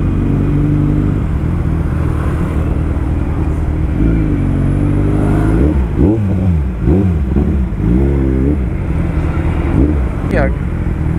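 Motorcycle engine while riding through heavy traffic in San Mateo, steady close rumble with several throttle blips and revs in the middle, people talking over it.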